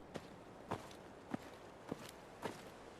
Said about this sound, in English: Even just listening to my footsteps crunching on gravel is nice.